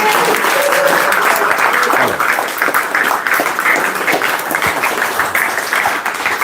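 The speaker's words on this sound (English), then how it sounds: "So please do give them a round of applause." A whiskey-tasting audience gives a sustained, dense round of applause for the event team, loud and steady from start to finish, with faint voices mixed in.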